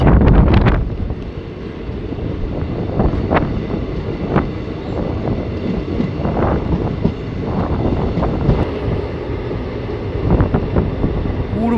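An Ahmadpur–Katwa passenger train runs steadily along the rails, with continuous loud rumble, rattling wheel clatter, and gusts of wind buffeting the microphone throughout.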